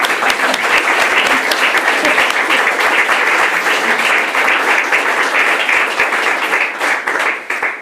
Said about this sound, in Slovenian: Lahko zaploskamo.